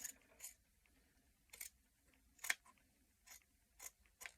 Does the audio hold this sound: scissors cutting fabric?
yes